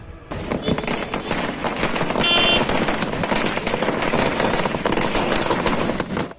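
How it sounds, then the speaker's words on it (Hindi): Firecrackers bursting during a street celebration, a dense continuous crackle of rapid pops lasting throughout at steady loud level, with no clear speech. "पटाखे उड़ाकर जश्न मनाया"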